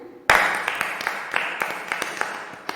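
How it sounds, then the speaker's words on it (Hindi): A church congregation bursts into applause all at once, a loud, dense burst of clapping that holds with a few sharper claps before slowly easing off. "परमेश्वर के जोरदार तालियों से स्वागत करते हैं"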